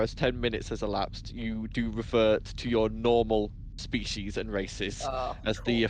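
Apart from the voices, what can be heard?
No everyday noises stand out.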